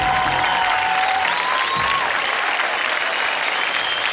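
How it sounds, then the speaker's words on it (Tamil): Loud, dense audience applause fills a dance competition show studio, a steady wash of clapping from a large crowd with a brief musical sting at the start. "பலத்த கரகோஷங்கள்."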